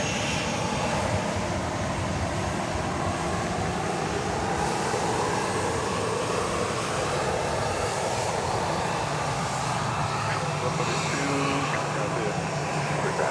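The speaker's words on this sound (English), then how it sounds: "Here's a 737-700. It's off to Burbank, California." A Boeing 737-700 airliner bound for Burbank runs its jet engines at Dallas Love Field on the way to runway 31 left. A loud, steady roar and whine holds for the whole stretch.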